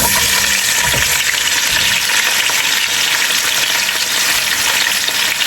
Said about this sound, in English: To the pot, I'm going to add my vegetables.